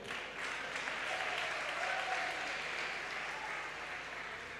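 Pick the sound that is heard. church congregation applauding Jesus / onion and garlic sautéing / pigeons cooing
church congregation applauding Jesus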